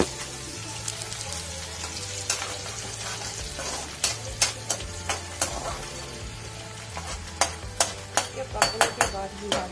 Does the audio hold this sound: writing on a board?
no